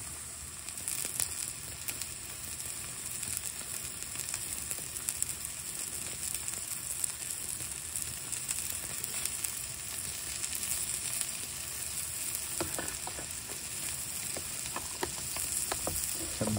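Two burgers sizzle in melted butter on a cast iron pan at a truck bed campsite, a steady close crackling fry that runs unbroken throughout with no talk.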